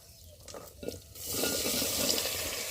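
Bitter gourd and potato pieces with their skins on are tipped into hot oil in a village kitchen, and after a few soft clatters a loud, even sizzle swells up and holds steady, with no talk.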